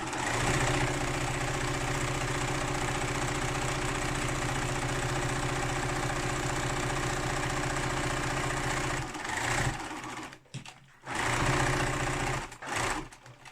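A sewing machine runs steadily for about nine seconds while stitching a tote bag seam, a close, even mechanical whir, then stops and restarts in short bursts with brief pauses.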